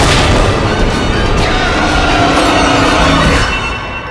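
A loud, sustained roaring explosion blast that fills the space, rumbling with deep low-end energy before slowly fading at the end.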